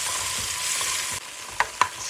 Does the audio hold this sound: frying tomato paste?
yes